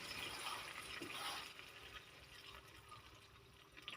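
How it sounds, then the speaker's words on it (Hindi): Water poured into a pan of chicken cooking on the stove, a brief splashing gush that settles into a softer bubbling sizzle, close and faint. "ये मैंने पानी डाल दिया है,"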